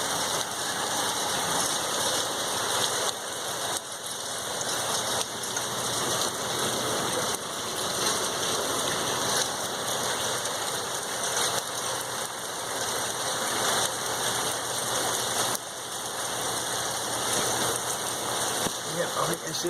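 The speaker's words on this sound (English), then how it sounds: "It's a downpour" A heavy rain downpour pours down around a new home, a dense, loud, unbroken hiss of water hitting surfaces that holds steady for about twenty seconds, with no voices over it.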